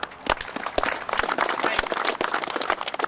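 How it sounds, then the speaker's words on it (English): An audience at a public event during an admiral's visit applauds in a dense, lively wash of clapping, with sharp individual claps standing out and some voices mixed in underneath. "Please give yourselves a round of applause"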